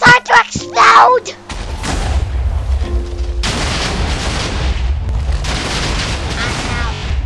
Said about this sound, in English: the firework TNT spits out loads of TNTs up in the air